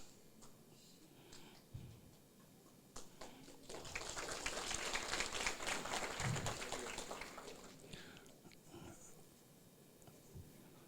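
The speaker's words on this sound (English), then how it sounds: "A big round of applause, please, ladies and gentlemen." Applause from an audience at a Duke of Edinburgh Award ceremony swells for several seconds as awardees are honoured, a moderate, fairly distant patter of clapping over room noise that then fades back down.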